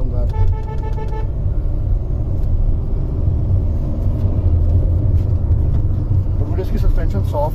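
Hyundai Venue turbo car driving through city traffic, a steady loud low engine and road rumble inside the cabin, with horn toots and traffic sounds around it.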